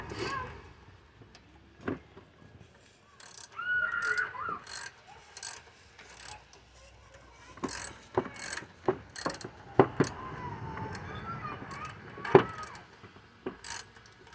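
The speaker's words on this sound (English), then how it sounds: "I'm just going to get that bolt off that other thing." A ratchet clicks in quick bursts, loosening a bolt during alternator replacement on a 2006 GMC Yukon, close up and interrupted by pauses, clanks of metal tools and faint muttering.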